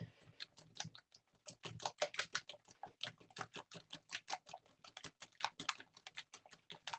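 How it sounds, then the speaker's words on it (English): Crumpet batter whisked by hand in a bowl, a fast run of light rhythmic ticking clicks of the whisk against the sides, close and fairly quiet, with no voices. "this is the worst part, is the whisking by hand"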